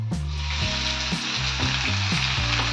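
Chopped onions drop into hot oil in a pan for prawn manchurian and fry with a loud, continuous close sizzle, broken by a few stirring scrapes.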